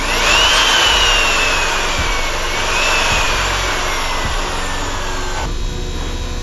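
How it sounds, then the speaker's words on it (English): A panel router's motor runs at a loud, steady high whine while cutting downward through material, with the pitch sagging slightly under load and the cutting noise dropping off near the end. "I'm gonna go downwards on my first cut, removing most of the material."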